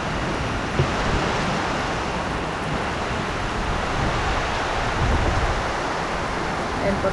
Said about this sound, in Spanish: Oh, terrible, terrible la lluvia.